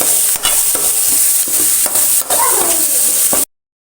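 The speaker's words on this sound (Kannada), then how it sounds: "ಈಗ ಚೆನ್ನಾಗಿ ಫ್ರೈ ಆಗಿದೆ ಇವಾಗ ಟೊಮೆಟೊ ಫ್ರೈ ಆಗಿದೆ" Tomato masala with turmeric frying in a pan for Kundapur-style oyster masala: a loud, steady hiss of sizzling oil broken by spatula scrapes and stirring strokes, no talk, cutting off abruptly near the end.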